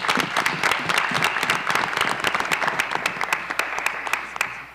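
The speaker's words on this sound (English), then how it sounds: "So a big round of applause for them making this season so successful." An audience applauding a team at a school board of education meeting, steady sustained clapping from many hands in an indoor room, fairly loud and continuous before tapering at the end.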